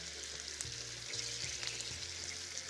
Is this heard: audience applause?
no